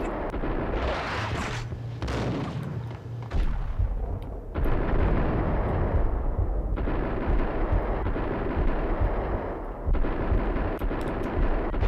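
Gunfire and a big explosion rip through the video game Max Payne: a loud sustained blast roar, then dense, continuous bursts of shooting with rumbling booms, close and heavy throughout.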